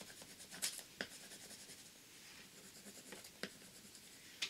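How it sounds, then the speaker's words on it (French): A pen scratches quietly across paper in short strokes and taps while colouring a paper fish's scales, close and soft with no talk. "On va juste le colorier les écailles."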